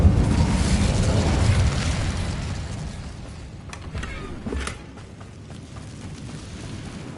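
An Incendio fire spell erupts in Hogwarts Legacy with a loud, rumbling blast that swells at the start, then fades into a crackling, creaking tail with a second smaller burst midway.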